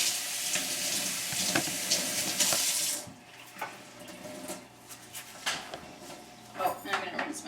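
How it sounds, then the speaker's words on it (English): A tap runs water onto a sponge held beneath it, a loud, dense hiss for about three seconds before it shuts off, followed by quieter sink clatter and handling sounds. "I'm just going to wet my spare sponge."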